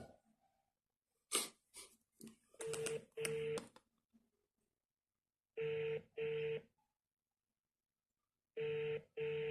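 A telephone rings in paired electronic tone bursts that repeat after a pause. Faint breathing and rustling come before them, with no talk.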